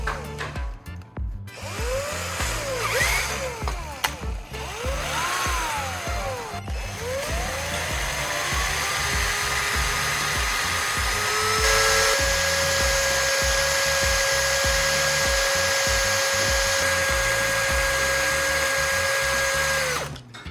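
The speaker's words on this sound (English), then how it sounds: "Now, I'll sharpen one end of the extracted battery core to form a pointed soldering tip" An extracted battery carbon core is sharpened to a point against a spinning power tool, with a loud continuous motor whine, rising and falling grinding contact, then a steady high-pitched hum.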